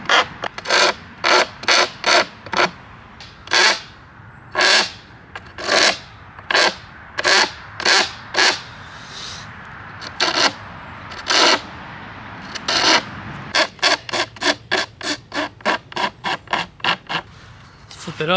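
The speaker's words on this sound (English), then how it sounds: "you just gotta take your kind of, not your Ferris rasp, but your medium-sized rasp, and just kind of round this off" A medium-sized rasp rounds off a wooden bow limb in repeated scraping strokes, loud and close, in an uneven rhythm that speeds into quick short strokes toward the end.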